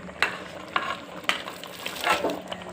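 Intermittent scraping and clacking of a utensil stirring wheat huggi in a pot, a few distinct strokes close by.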